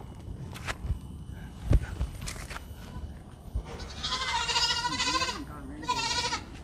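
Small mini goats on a farm bleat in a quavering, wavering call near the end, preceded by footsteps and scuffling as the animals move about; a couple of bleats run close together, fairly loud against outdoor background noise.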